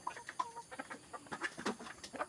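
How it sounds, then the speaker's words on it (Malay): Village chickens cluck softly nearby in a farmyard, a string of short, uneven clucks and small calls with no talking. "Ini ayam kampung."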